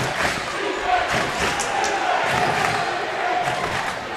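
The Pima crowd cheers steadily at a girls basketball state final, a moderate, continuous roar in the gym with ball bounces and a commentator talking over it.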